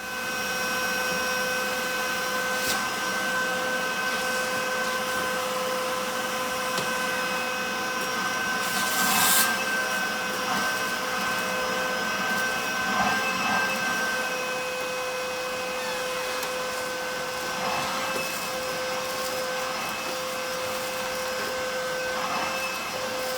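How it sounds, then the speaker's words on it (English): Vacuum cleaner running steadily inside a 1974 Chevrolet Blazer to suck leaves out of the interior, a constant loud whine and roar with brief bumps and rattles as the nozzle moves, no talking. "I guess we're gonna have to vacuum it out."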